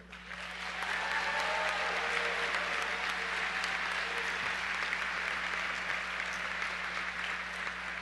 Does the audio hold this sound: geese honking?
no